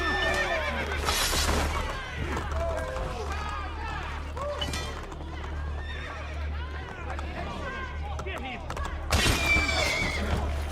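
Horses whinny loudly several times over the clatter of galloping hooves in an Assassin's Creed video game, with shouting voices and commotion mixed in.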